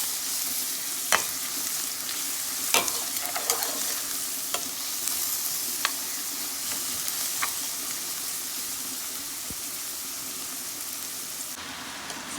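Butternut squash fries with onion, garlic and hot pepper in a pan, under a constant dense sizzle. Several sharp spoon clinks and scrapes come at intervals as it is stirred.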